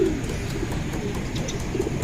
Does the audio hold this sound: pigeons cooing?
yes